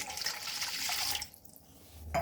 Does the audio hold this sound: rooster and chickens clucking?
no